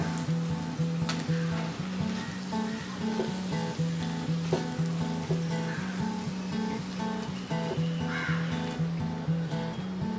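Chopped tomatoes hitting a hot pan of softened capsicum for Mumbai-style black pav bhaji, a continuous close sizzle with scattered sharp crackles and occasional clinks of a utensil against the pan, no talking.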